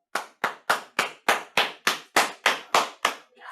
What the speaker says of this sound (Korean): 선생님이 이렇게 박수를 치는데 쳐다보질 않냐